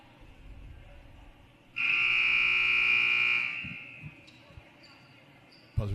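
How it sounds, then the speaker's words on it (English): Basketball gym during a timeout in a Boyertown vs Valley Forge Military Academy boys' game: a loud, steady electronic buzzer blares for about two seconds over crowd murmur, followed by a few ball bounces and faint chatter. "Buzzer sounds for the last 15 seconds of the timeout."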